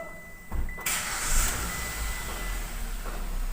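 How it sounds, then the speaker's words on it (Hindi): A Hyundai Grand i10 1.2 petrol engine cranks briefly and catches, then settles into a quiet, smooth idle heard close by with no talking. "गाड़ी स्टार्ट हो गई है हमारी"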